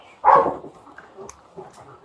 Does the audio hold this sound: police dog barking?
yes